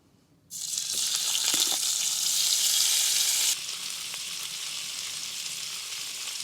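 Pork belly pieces frying in a little oil in a pan during a solo winter camp by a lake, with loud, steady crackling sizzle that starts suddenly and then eases slightly, without speech.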